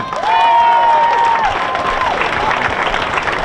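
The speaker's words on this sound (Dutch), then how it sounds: "Groot applaus voor Johan Brouwer" Applause and cheering from a crowd at the Dutch duo pole-sitting championship final in Kollum, hailing the champions after 60 hours on the pole, loud and sustained, with a tonal whistle or announcer tone gliding over it early on.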